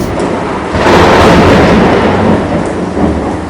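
A loud roll of thunder swells and rumbles over steady pouring rain, building quickly then slowly fading back into the downpour.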